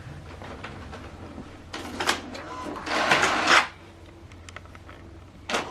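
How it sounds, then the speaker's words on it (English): An HP DeskJet 3775e printer printing a document: quiet mechanical whirring with clicks and a louder sustained feed-and-carriage pass in the middle, then settling back to soft motor noise and a final clack. "Now this document is printing."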